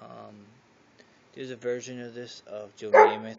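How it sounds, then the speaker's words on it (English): A pet dog barks indoors, a few short barks and yips that come in the second half and partly overlap someone talking close to the microphone. "That's my dog barking."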